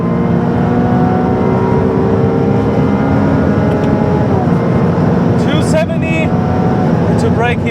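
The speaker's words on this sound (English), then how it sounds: "Does this sound like a V6 to you? Full throttle." A Ferrari 296 with a V6 engine accelerates at full throttle on the Autobahn: a loud, steady engine roar with rising pitch heard from inside the car, with an upshift near the end and someone talking over it.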